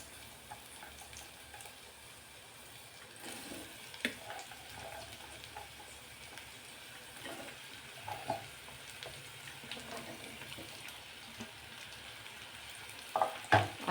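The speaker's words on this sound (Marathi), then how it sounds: "हे जे कट केलेले गाजर आहेत ते आपण यावरती टाकून घेणार आहोत।" Cut carrots sizzle and get stirred in hot ghee for a one-kilo batch of gajar halwa, a soft continuous frying hiss broken by occasional scrapes and clinks of a spoon against the pan.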